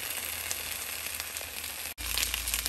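Potatoes frying in a pan over medium flame give a steady close sizzle and crackle, briefly cut off near the end, then resuming louder.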